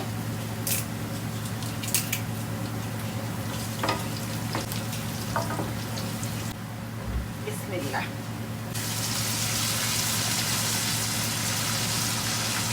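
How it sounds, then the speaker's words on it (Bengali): Whole cumin and bay leaves sizzle in oil over a low hum, the sizzle growing fuller and louder toward the end. "কয়েকটা গোটা জিরা দিয়ে দিচ্ছি তেলের উপর"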